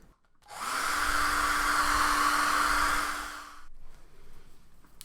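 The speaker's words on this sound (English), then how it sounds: "I'm going to do it with a hairdryer" A hair dryer switches on with a rush of airflow and steady motor whine, runs for about three seconds, then cuts off.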